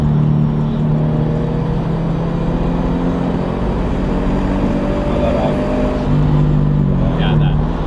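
A boosted Subaru BRZ engine drones steadily from inside the cabin with the windows down, a low, continuous hum that runs under people talking throughout.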